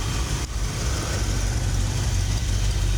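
Rebuilt Ford 460 V8 idling low in a 1974 camper special truck inside a shop, a close, steady, deep throbbing rumble with slight unevenness and no voices.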